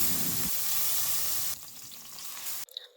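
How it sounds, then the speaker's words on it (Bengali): Small mourala fish, rubbed with salt, turmeric and a little chili powder, sizzle steadily in hot oil. The loud, close frying hiss shifts texture partway through and then cuts off abruptly near the end, with no voices. "নুন হলুদ আর সামান্য লঙ্কা গুঁড়ো মাখিয়ে গরম তেলে হালকা করে ভেজে তুলে রাখো"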